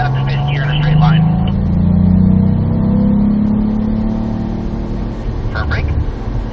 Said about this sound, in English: Fourth gear here, and up to fifth gear in a straight line.